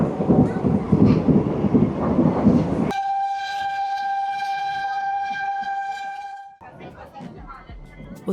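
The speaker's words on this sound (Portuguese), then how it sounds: "hoje é um dos poucos trechos ainda ativos no Brasil com locomotivas a vapor em operação" A steam locomotive runs on a historic Brazilian railway line opened in 1881 near São João del-Rei and Tiradentes. A rumbling run gives way to a loud, sustained whistle lasting several seconds, then the rumble returns.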